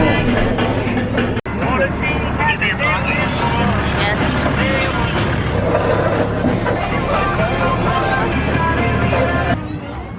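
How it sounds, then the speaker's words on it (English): A tractor carries riders at a pumpkin patch, its engine droning steadily and loudly under continuous talk from several people, with a brief sharp knock partway through. "We're on a tractor."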